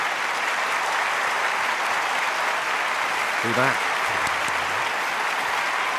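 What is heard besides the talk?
audience applause on a TV singing show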